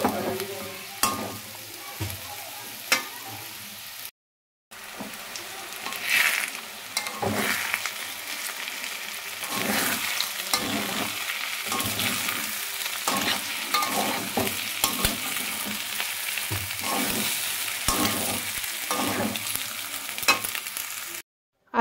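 Chow mein with potato and turmeric sizzles in a pan while being stirred repeatedly, with scraping strokes and steady frying hiss close by, briefly cut by a short gap.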